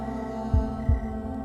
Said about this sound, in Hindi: हर किसी का दिल इसी तरह धड़कता है।